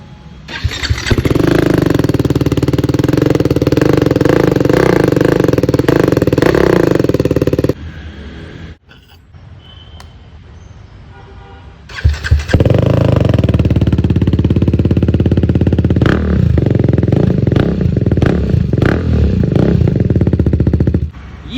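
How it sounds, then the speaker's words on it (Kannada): A BMW G310R with an IXIL slip-on exhaust and dB killer fitted starts and revs loudly up close, settles briefly near idle, then roars into sustained revving again. "ಫಸ್ಟು ನಿಮಗೆ ವಿತ್ DB ಕಿಲ್ಲರ್ ಇರೋ ಎಕ್ಸಾಸ್ಟ್ ನೋಟ್ ತೋರಿಸ್ತೀನಿ"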